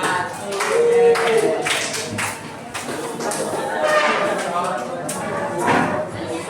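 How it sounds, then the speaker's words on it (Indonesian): A classroom audience claps for two presenters, a scattered round of hand claps mixed with chatter and a speaking voice. "Kasih aplaus dulu untuk dua dulu"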